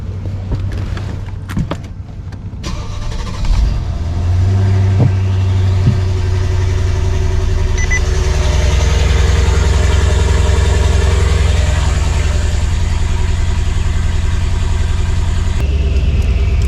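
Mercedes S-Class with a turbocharged engine starting up and settling into a steady, loud idle, a deep low exhaust rumble held close for most of the span, with a brief door or mechanical click early on.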